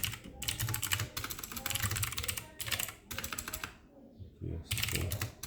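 Fast typing on a computer keyboard, close and continuous clatter of keys in quick bursts with short pauses, while someone talks quietly underneath.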